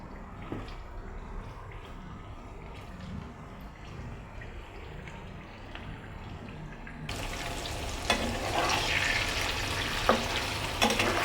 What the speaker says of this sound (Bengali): এখন আমি মুরগির গোশগুলো দিয়ে দিব ভাজার জন্য।